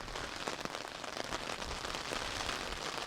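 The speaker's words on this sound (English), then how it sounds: "the prevailing wind, which is lashing the rain across the moorland towards my face" Wind-driven rain lashes across open moorland, drumming in a dense, continuous patter close against an umbrella, with scattered sharper drops standing out from the steady hiss.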